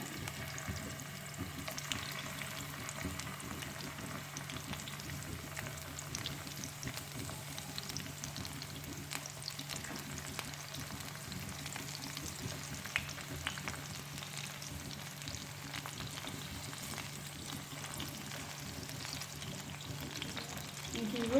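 Sliced tomatoes sauté in a pan for Turkish menemen, a soft, steady sizzle with light stirring, fairly quiet and continuous.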